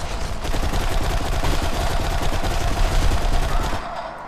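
A gunfire exchange in the BlackSite: Area 51 video game, a dense, rapid stream of automatic fire rattling continuously for about four seconds before cutting off abruptly.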